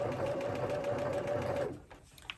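A sewing machine runs steadily while stitching the seam of a crossback summer top, a close continuous whir with a steady tone, then stops abruptly, leaving a few faint handling clicks.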